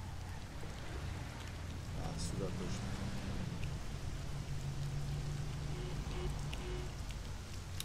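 Steady rain hisses and patters throughout in the video game Mafia: The City of Lost Heaven, with a low rumble underneath and someone speaking briefly over it.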